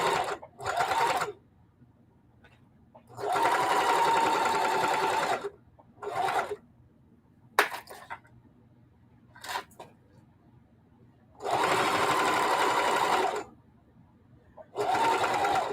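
Sewing machine stitching a wide line around fabric on an upcycled vintage apron. It runs in several loud bursts of rapid stitching, separated by quiet pauses and small handling clicks.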